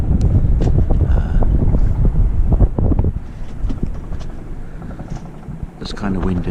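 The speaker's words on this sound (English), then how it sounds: "There's a nice southerly breeze, very nice wind" Steady wind buffets the microphone aboard a sailboat on a southerly breeze off Cape Town's west coast, a loud continuous rumble with water and hull noise, easing slightly after three seconds, while people talk over it.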